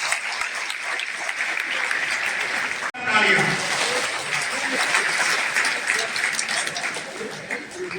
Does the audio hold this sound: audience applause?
yes